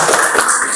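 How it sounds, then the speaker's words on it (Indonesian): Classroom applause from a group of students, a short burst of dense, even clapping that fills the moment, fairly close and loud. "aplaus untuk diri kita masing-masing"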